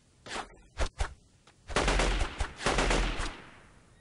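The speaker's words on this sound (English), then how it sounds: "Okay, somebody was shooting at me." Gunfire in the video game Delta Force 2: a few sharp separate shots, then a loud, sustained automatic burst with a couple of brief breaks, heard close.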